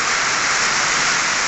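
Steady rain falls as a dense, even hiss with no breaks or voices for the whole stretch.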